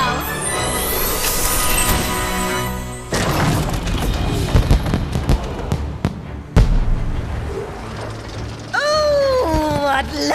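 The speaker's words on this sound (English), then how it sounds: "What lovely fireworks!" Fireworks burst in a cutscene of the Puppeteer video game, a run of deep booms and sharp cracks over swelling orchestral music, followed by whistling, sparkling tones.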